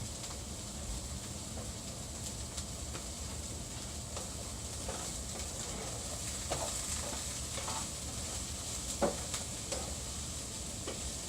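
A pot of sauce boils and thickens on the stove, giving a steady low bubbling hiss with scattered soft pops and ticks, alone at moderate level.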